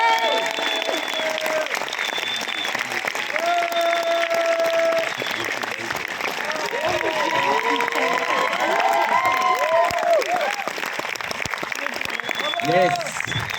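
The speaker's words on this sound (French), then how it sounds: "je vais vous demander un tonnerre d'applaudissements" An audience in a retirement home hall breaks into sustained, full applause with some cheering to welcome the comedian Kev Adams, and a voice speaks over the clapping.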